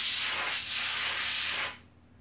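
A spray nozzle blasting at a computer graphics card, a loud pressurized hiss in short surging bursts that cuts off sharply near the end.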